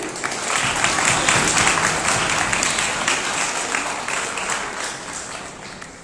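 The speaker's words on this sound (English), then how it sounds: "Big clap for him." Continuous crowd applause for an award recipient at an annual award distribution ceremony, dense and even clapping from many people throughout, fairly close and sustained.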